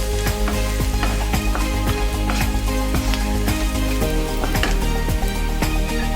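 Turmeric and coriander powder fry in a pan while a spatula stirs them, making rapid rhythmic scraping strikes over a steady sizzle. A loud, constant tonal drone runs underneath throughout.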